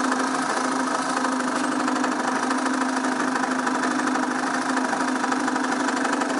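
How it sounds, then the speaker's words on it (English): A DC coupling motor running under an applied load on a test bench, a steady mechanical hum with a constant whirring tone, unchanging and uninterrupted throughout, with no voices. "Now we will apply load at the armature of the DC coupling motor."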